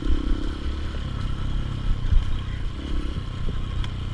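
A motorcycle rides a bumpy off-road trail between Hambalang and Cisadon, its engine a steady close drone mixed with clattering and knocks from the rough ground, with no talking.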